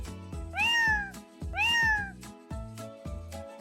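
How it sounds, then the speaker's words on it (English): A cat meows twice, clear and close, with background music playing underneath. "Cat purrs and meows."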